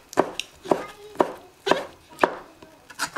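Knife slicing char siu pork thinly on a cutting board, with six or seven crisp, evenly spaced chopping taps about half a second apart, close and clear, and no talking.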